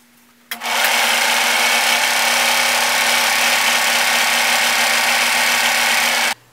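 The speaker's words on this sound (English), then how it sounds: "both pieces will be chained together by this little thread that comes off the overlocker" An overlocker serger runs continuously for about six seconds, a loud steady mechanical whir with a low hum, chain stitching thread off past the fabric edge, starting and stopping abruptly.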